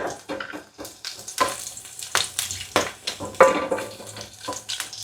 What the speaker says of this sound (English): I want to fry the garlic really good.